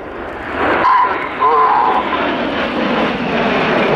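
Red Arrows aerobatic jets flying in formation through a roll, a loud, steady roar of jet engines overhead with a broad, rushing tone and no voices heard.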